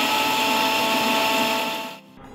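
A mixer grinder whirs loudly and steadily while grinding coconut for kokum kadhi, then winds down and cuts off near the end, leaving faint background noise.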